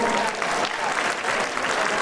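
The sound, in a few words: applause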